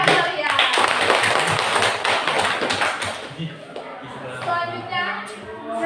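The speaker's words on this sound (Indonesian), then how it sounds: "Mari kita beri tepuk tangan yang meriah." An audience at a school debate clapping, a loud burst of many hands that gradually fades while young voices and chatter continue underneath and take over toward the end.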